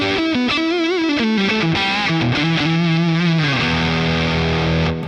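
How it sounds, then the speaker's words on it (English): Electric guitar with fuzz through a Boss Katana amp, drive turned up and Uni-Vibe off, playing thick, saturated sustained notes and bends, loud and continuous, with no talking. "let's turn off the Univibes just so we can get the fuzz sound right first"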